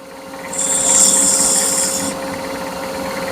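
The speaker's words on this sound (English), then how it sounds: "I'm going to go to my actual spindle gouge. I'm going to detail my thing out. I want to round this edge over just a hair." A spindle gouge rounds over a wood edge, giving a close, steady scraping hiss that rises for about a second and a half and then eases off, with a constant background hum running underneath.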